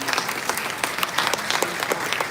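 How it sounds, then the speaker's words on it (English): An audience at a conference event applauds a guest, a brief, dense burst of many hands clapping evenly throughout. "Let's have a round of applause, ladies and gentlemen"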